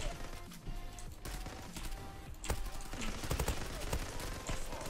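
AK-47 gunfire in the online shooter Zula, heard as dense, sustained bursts of automatic fire with sharp individual cracks over a busy game soundscape, loud and continuous for the whole stretch.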